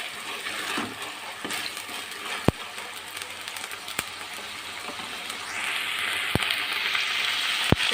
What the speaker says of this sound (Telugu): దీన్ని 2 నిమిషాలు ఫ్రై చేసుకొని